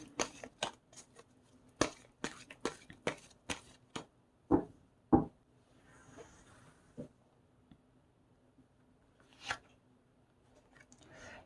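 Tarot cards are shuffled and drawn by hand, giving quiet, close snaps and riffles in an uneven cluster that thins out into a few soft flicks and slides.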